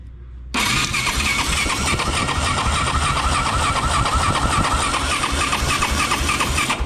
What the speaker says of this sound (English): So ignition on, key start.